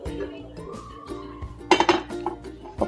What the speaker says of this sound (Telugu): ప్యాన్ పెట్టుకున్నాను